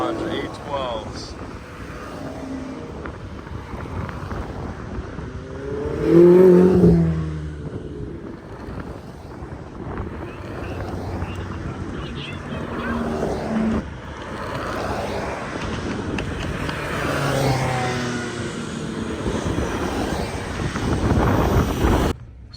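A McLaren 688 HS, one of only 25 built, arrives at a Monterey Car Week gathering. Its engine gives a brief loud rev midway and builds again toward the end, under ongoing talk and crowd noise.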